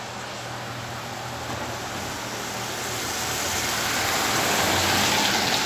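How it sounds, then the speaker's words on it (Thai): Freezing rain or sleet falls at night in Valdepeñas, Spain, making a continuous hiss that grows slowly louder, with no voices. "ฝนมันตกลงมา แต่ว่าอากาศมันหนาวมันก็เลย กลายเป็นน้ำแข็ง"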